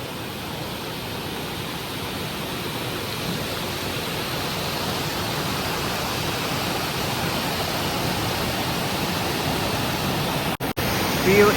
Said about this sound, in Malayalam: ഈ വെള്ളച്ചാട്ടം തന്നെയാണ് പാൽച്ചുരം